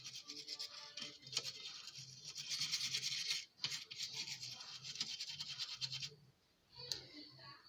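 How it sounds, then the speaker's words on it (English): An old toothbrush scrubs moisture off a water-damaged TP-Link router circuit board, close bristly scratching strokes in uneven bursts with short pauses, a brief gap near the end before a last stroke. "So I'm going to use an old toothbrush and brush off the moisture."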